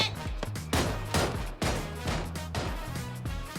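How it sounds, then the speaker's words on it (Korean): Rapid bursts of gunfire crack through a noisy battle royale game mix, several shots in quick succession, fairly distant and muffled. "총소리"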